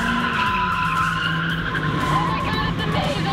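A drift car slides through its turns at a drift school, tires squealing in a steady, loud screech over engine roar, with voices faintly present underneath.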